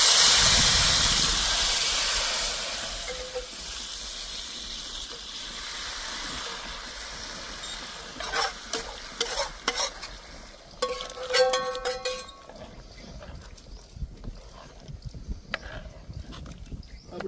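Cooked chana dal is poured into a hot tadka for a Bhavnagar-style dal, bursting into a loud hissing sizzle that slowly fades over several seconds. Scattered utensil clinks and scrapes follow, with no talk.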